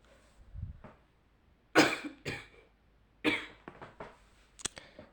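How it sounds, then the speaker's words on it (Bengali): A woman coughs while cooking in a home kitchen: several separate harsh coughs and throat-clearing bursts, close and fairly loud, with quiet pauses between them and no speech. "কাশিটা কমাইতেই পারতাছি না"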